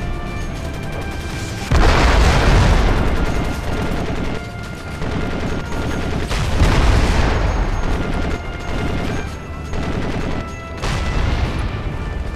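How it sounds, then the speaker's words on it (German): Heavy explosions in the video game Crysis boom one after another, mixed with bursts of rapid gunfire, loud and close, with rumbling low blasts in between. "Die Explosionen sind richtig geil gemacht,"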